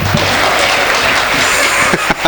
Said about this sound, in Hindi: अरे ताली फाली बजाओ